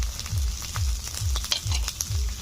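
Tomato, dry chili powder, salt and turmeric fry in hot oil for a katla fish curry, giving a steady close sizzle broken by rhythmic stirring scrapes about every half second.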